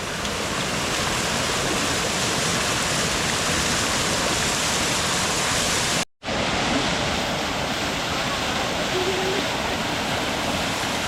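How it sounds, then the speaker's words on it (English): A small jungle waterfall near Batu Caves pours steadily, a loud, dense rushing roar close by that fills the scene, broken only by a brief cut partway through. "He's gonna go under the waterfall."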